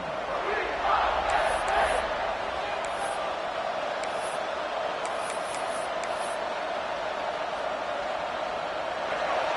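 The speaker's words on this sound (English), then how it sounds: "The roar of the crowd trying to fuel this defense to keep them pinned in their own end." A college football stadium crowd roars in a dense, sustained wash of noise as the home defense tries to pin the opponent deep, loud and continuous throughout, with a voice briefly audible early on.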